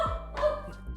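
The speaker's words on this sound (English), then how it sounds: "If you can hear my dog barking, I apologize." A dog gives a short pair of barks in about a second, close to the microphone, one quick yelp followed by a second brief bark.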